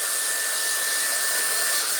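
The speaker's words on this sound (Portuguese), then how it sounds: "Vento frio, eu gosto imenso de trabalhar com este secador porque dá-me margem, ou seja, agora está no frio" A hair dryer running on its cold setting during a salon hair-colouring session gives a steady, loud broadband whoosh with a faint high whine, continuous and close throughout, with no voices.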